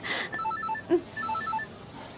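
A telephone rings in two short bursts of bright, repeating electronic tones, with a brief clunk between them, fairly close in a quiet indoor room.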